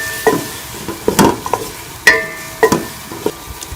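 Potatoes mixed in a frying pan for vegetable biryani, with a series of sharp spatula scrapes and knocks against the pan over a faint sizzle, close and fairly loud.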